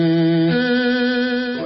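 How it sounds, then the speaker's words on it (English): Buzzy, sustained electric organ tone heavily fuzzed through a fuzz box, shifting chord partway through and holding with a thick, saturated edge; loud and close, no speech. "Well, there's the fuzz box, which sounds like this."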